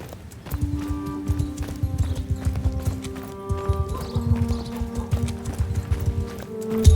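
Horse hooves clip-clop in a rhythmic, fairly close patter across the whole stretch in the video game Mount & Blade 2 Bannerlord, with faint music-like tones underneath and a louder burst at the very end.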